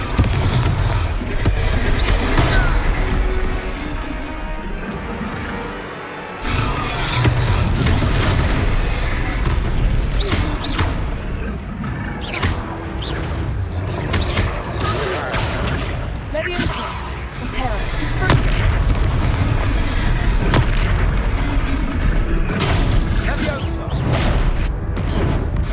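Confringo fire spell blasts during a boss fight in the video game Hogwarts Legacy: loud repeated booms and impact bursts amid dense game effects, with voices talking over the action.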